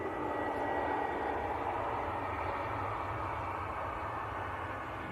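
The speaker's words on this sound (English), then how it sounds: "One of Jet2's newer A321 Neos." A Jet2 Airbus A321neo at Manchester Airport produces a steady, broad engine roar that holds at an even level for several seconds, moderately distant, with no voices.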